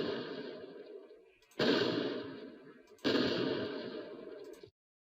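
Fire sound effect from Unreal Engine starter content: a steady roaring, crackling burn that surges twice in sharp bursts, each fading slowly before cutting off abruptly. It is loud, broadband and close, with no talking.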